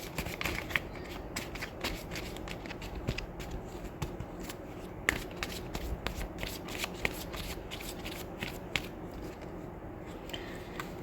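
Tarot cards are shuffled and drawn in a quick, steady run of close, crisp riffling and flicking taps lasting throughout, with no talking.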